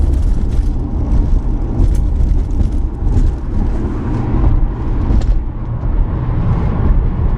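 A turbocharged Subaru car engine cruising at 3,500 rpm, a loud, steady low drone and road rumble from inside the car, continuous and unchanging throughout.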